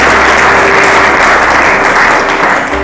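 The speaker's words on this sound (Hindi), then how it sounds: "ताली बजाइए प्रभु के लिए" A dense burst of audience applause rings out loudly and evenly for a few seconds in a devotional religious gathering, a continuous wash of many hands clapping without speech.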